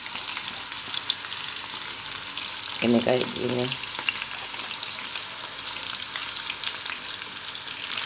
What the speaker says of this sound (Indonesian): Aku mau goreng aja kayak gitu aja.